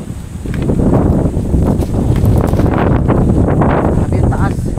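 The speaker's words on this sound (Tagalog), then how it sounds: "Lakas ng hangin guys." Strong wind buffets the microphone outdoors in a high, exposed spot, a loud continuous roar with gusty rumble, while people talk over it.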